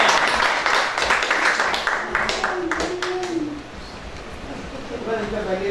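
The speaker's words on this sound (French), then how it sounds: "Applaudissons pour la voix du Seigneur" A church congregation claps in quick, fairly close bursts that fade after a few seconds, with a voice speaking and singing over the applause.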